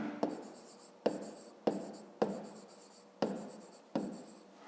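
Pen writing on paper during a fifth-grade maths exercise. Six quick strokes come in a regular rhythm, each a sharp scratch that fades off, close and quiet, with no talk.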